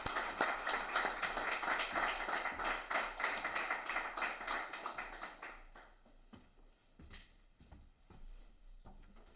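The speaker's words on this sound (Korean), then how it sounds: "따뜻한 박수로 모시겠습니다." Warm applause from a church congregation at a Wednesday worship service, welcoming the pastor: steady crowded clapping for about six seconds, then tapering into a few scattered claps and room noise.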